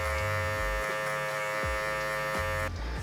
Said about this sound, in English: using the last tooth or 2 teeth of the clipper to get rid of it